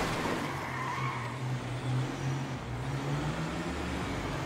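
Engine drone and long tire skids from a car driving in the GTA 5 video game, a continuous low rumble with sliding squeal layered on top, moderately loud and steady throughout without speech.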